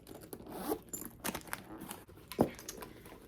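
A metal zipper on the back pocket of a new Steve Madden purse rasps open in quick, uneven pulls with crinkly handling noise, close and fairly loud, no voices.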